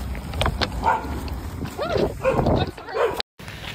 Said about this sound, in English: a pack of dogs came up and started chasing me